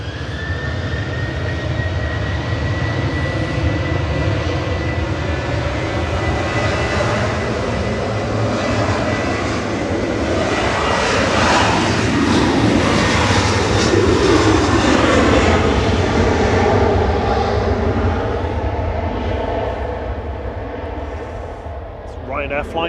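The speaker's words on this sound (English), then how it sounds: "Ryanair Flight 7 going back to Funchal. One of the first departures of the day for Funchal, coming over here." A Ryanair airliner departing Manchester Airport for Funchal passes overhead, its loud jet roar building from a thin whine into a broad peak mid-pass, then easing away as it recedes.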